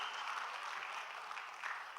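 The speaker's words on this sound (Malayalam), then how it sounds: "ഒരു നല്ലൊരു കൈയടിയോടെ അവരെ നമുക്ക് ഈ വേദിയിലേക്ക് സ്വീകരിക്കാം" A hall audience at a film promotion event claps to welcome an actress onto the stage, making a faint, steady wash of applause that lasts the whole moment.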